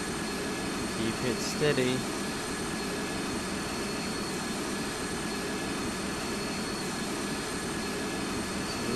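Virgin Atlantic A350-1000 jet engines in the GeoFS flight simulator game, a steady airy drone that holds constant the whole time while someone briefly speaks near the start.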